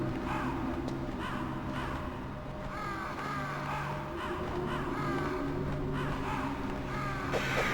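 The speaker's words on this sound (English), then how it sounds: "I can hear the bird" A bird in the video game Metal Gear Solid caws repeatedly in a steady series of harsh calls over a low droning ambient hum.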